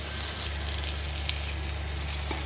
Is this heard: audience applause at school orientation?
no